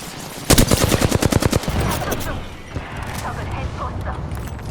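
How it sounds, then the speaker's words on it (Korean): Rapid automatic gunfire in a shooting video game bursts loudly at close range, followed by scattered shots, clatter and game voices over the action. "적과 마주쳤어요. 사격한다."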